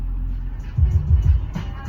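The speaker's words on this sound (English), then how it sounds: "We got a wall of vehicles just slowly creeping through the snow." Slow traffic of cars and trucks creeping along snowy roads during a morning commute, a low rumble of engines with heavier passing swells near the middle and end.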